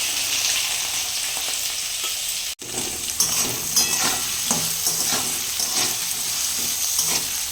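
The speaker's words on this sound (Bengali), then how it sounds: "কড়াইয়ের মধ্যে কালো জিরে আর শুকনো লঙ্কা ফোড়ন দিয়ে দিয়েছি এবার আলুগুলো ছেড়ে দেবো" Potatoes tossed into a kadai of hot oil tempered with black cumin and dried chilies set off a dense, steady sizzle; it cuts out for an instant, then returns louder with stirring scrapes.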